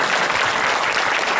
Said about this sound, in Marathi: आता तरी वाजवा.